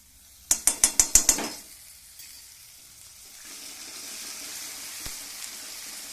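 Ginger and garlic stirred into frying pink onions in a pan, opening with a quick run of sharp scraping clinks from the spoon, then a low steady sizzle that swells and continues on its own.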